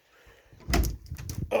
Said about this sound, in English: Oh, I'll shut the door.